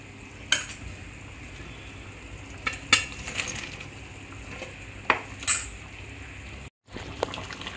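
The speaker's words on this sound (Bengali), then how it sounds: "বন্ধুরা, ঝোলটা টকবক করে ফুটে উঠেছে, এবার এর মধ্যে আমি বড়াগুলো দিয়ে দেবো, ভেজে রাখা বড়াগুলো" Fried chitol fish dumplings go into a boiling gravy pot, with soft clinks and scrapes of stirring, a few sharper utensil knocks against the pot, and a faint bubbling simmer underneath.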